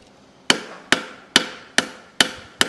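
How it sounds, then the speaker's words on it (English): A steel hammer strikes a horseshoe six times at a steady, unhurried pace while a performance horse is being shod, each blow a sharp, close metallic hit that rings briefly and fades, with no talk. "Just using the flat side, my hammer slightly tipped, I rotate all the way around the shoe."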